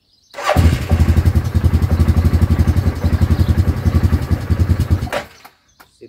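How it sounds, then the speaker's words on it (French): A quad ATV engine with an idling fault fires up and runs with a loud, choppy, uneven pulsing idle for several seconds close by, then cuts out abruptly. "il tient pas le ralenti régulièrement"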